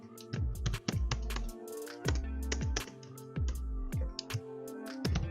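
Rapid clattering keystrokes on a computer keyboard while PHP code is being written, in uneven bursts with short pauses and a few heavier key thumps, close and clear with no talking.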